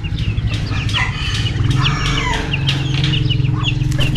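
Several chickens, including Sebright chickens, cluck and chatter close by, a busy, overlapping flock sound with occasional louder squawks throughout.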